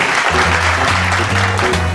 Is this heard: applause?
yes